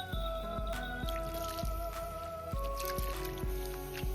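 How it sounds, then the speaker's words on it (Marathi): Roselle (ambadi) leaves being washed by hand in water, with repeated wet squishing and dripping splashes at a regular rhythm, close and fairly quiet, no speech. "कांदा परततो तवर आहे ना भाजी परत एकदा धुवून घेऊ."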